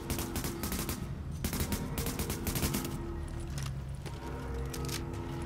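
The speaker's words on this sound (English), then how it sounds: "Laying down fire." Automatic gunfire in the video game Tom Clancy's The Division rattles in dense, loud rapid bursts with brief pauses between volleys, and no one speaks over it.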